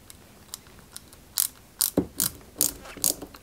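Small screw driven into a part of a 1/8-scale Ferrari 330 P4 model kit, giving a series of short, crisp ratcheting clicks close up, about eight bursts at an uneven pace with quiet gaps between them.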